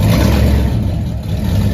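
A Ford 351 Windsor V8 car with an exhaust leak and no mufflers fitted runs loud and close, a rough, throbbing low rumble with a ragged, pulsing edge that dips briefly before picking back up.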